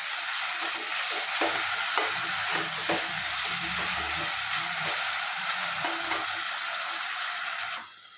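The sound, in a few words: stirring onions and tomatoes with salt for chicken biryani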